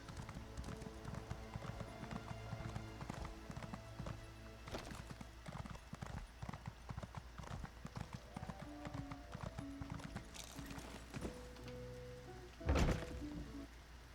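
Horse hooves clip-clop steadily in a fantasy role-playing video game, a continuous close rhythm of hoof beats with a brief louder thump near the end.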